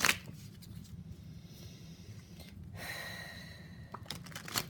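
Tarot cards are shuffled close up in soft, papery riffles and slides, with gentle breathing between them in a quiet room.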